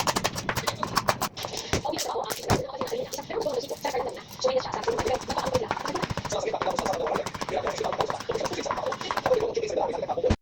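A knife chops onion and garlic on a board in quick, irregular strikes that continue throughout, with a voice or other background sound underneath.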